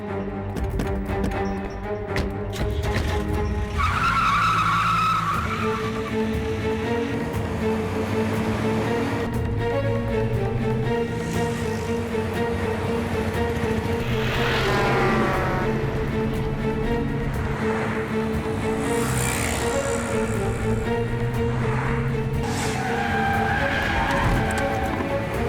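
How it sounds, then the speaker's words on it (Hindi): A car starts and drives off, its engine rising and straining with squealing, skidding tyres in a long loud run backed by dramatic music, with no talk over it. "गाड़ी स्टार्ट करो।"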